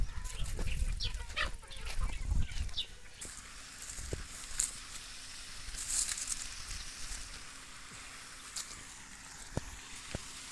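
Chickens clucking on a farm among coconut trees, faint scattered clucks and short calls with some rustling and clatter, no voices.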